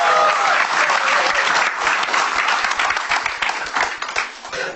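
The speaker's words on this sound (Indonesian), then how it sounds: "Tapi kita beri tepuk tangan untuk Jui." Stand-up comedy audience applause greeting the next comic onstage, loud close clapping from a crowd that starts full and gradually thins and softens toward the end.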